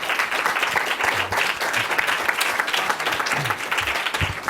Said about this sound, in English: let's all give a round of applause for our speaker